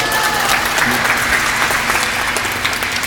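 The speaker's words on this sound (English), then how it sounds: "Give him a round of applause." Audience applause at a tennis summer camp, steady clapping from a group that holds at an even level for the whole stretch, with no talk over it.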